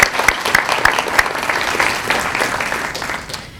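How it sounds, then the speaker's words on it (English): An audience at a Meals on Wheels awards event claps steadily, a dense, moderately loud round of applause with a few sharper individual claps standing out. "so we could give them a round of applause as well"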